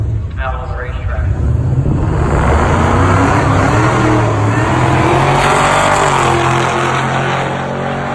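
A McLaren accelerates hard on a racetrack, its engine roar loud and close, climbing steadily in pitch for about eight seconds while voices talk over it.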